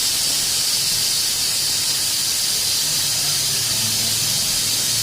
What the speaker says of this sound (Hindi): तो कुकर की पहली सीटी आ चुकी है।